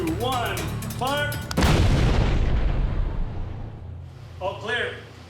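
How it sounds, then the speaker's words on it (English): An explosives blast test in which a detonation lets out a sudden deep boom that rolls into a long rumbling decay lasting several seconds, with someone talking before and after it. "Measuring the impact of these explosives will help to protect first responders."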